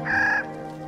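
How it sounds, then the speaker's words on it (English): Clark's nutcracker calling among whitebark pines, a single harsh, grating call lasting under half a second, fairly close and clear against a quiet mountain background. "The Clark's nutcracker is up there already, collecting the seeds of the whitebark pine."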